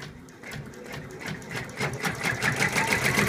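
An embroidery machine stitches a zippered purse held in its hoop, giving a steady rapid mechanical chatter that grows slightly louder, with no talking.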